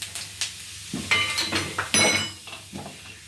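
Cumin seeds and crushed coriander hit hot oil for a samosa filling, giving a series of sharp sizzling bursts with a few spoon clinks against the pan, close and fairly loud with no talking.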